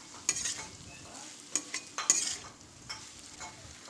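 Chowmein with cut capsicum, cabbage and onion being stir-fried, a soft sizzle broken by sharp scrapes and clinks of a utensil against the pan at an irregular pace.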